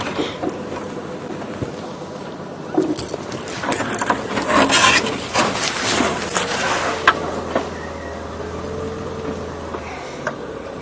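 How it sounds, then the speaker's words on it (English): A safari game drive vehicle scrapes and rubs against bush branches, a loud, rough, continuous grinding and rasping close by, with an engine hum underneath. "Sorry about the scraping."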